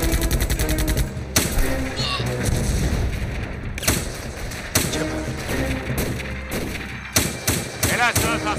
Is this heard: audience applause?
no